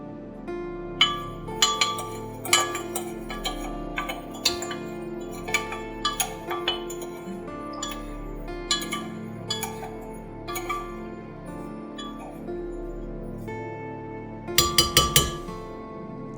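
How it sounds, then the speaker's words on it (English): Sugar, instant coffee and cornstarch mixed in a bowl for coffee cream, a run of light clinks and taps of a spoon against the bowl in uneven bursts, close and fairly quiet, ending with a quick flurry of clinks. "Mix 3 tablespoons of sugar, 1 tablespoon of instant coffee, and 1 tablespoon of cornstarch."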